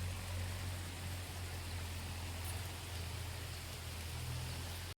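Rain falls steadily through a jungle during a trek in Palampur, a faint, even hiss of drops on foliage with a low steady hum beneath, with no voices.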